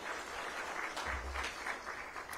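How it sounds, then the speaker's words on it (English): Continuous clapping from an audience, fairly faint and even, with no voices over it. "Another round of applause for our minister."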